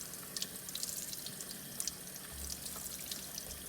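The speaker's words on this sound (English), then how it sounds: "You can even pick them up and run them under that cold water." Cold tap water running steadily over strawberries being rinsed in a sink, a continuous splashing stream with small drips and patters nearby, no speech.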